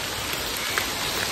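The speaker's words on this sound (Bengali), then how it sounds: "আর কীভাবে বৃষ্টি হচ্ছে দেখো" Heavy rain pours steadily beside a village pond, a dense, even hiss of drops on surfaces with no talk over it.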